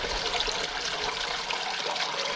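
Water drains through a porous cloth holding stainless tumbling pins from wet tumbling range brass, a loud, close, continuous rushing splash with no voices.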